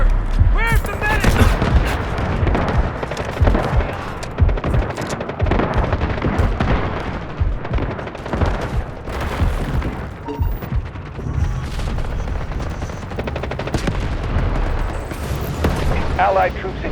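Heavy gunfire and explosions fill a battle in the game Delta Force, loud and dense with rapid shots, booms and rumbling blasts, while voices shout over the combat.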